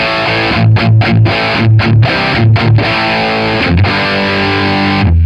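An electric guitar through a TC Electronic Dark Matter distortion pedal with the level raised plays a tight, chugging rhythm of short palm-muted distorted chords in a repeating pattern, ending on a ringing chord.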